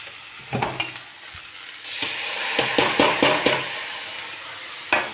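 Chopped cabbage drops into a hot pan and frying follows, a rising sizzle with a run of sharp stirring scrapes and clacks from a spatula, close and fairly loud with no talk.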